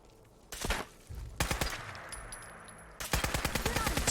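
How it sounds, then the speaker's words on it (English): Automatic gunfire from the video game Fallout 4 comes in three rapid, close, loud bursts of shots, with short pauses between them and no talking. "now somebody else is shooting me"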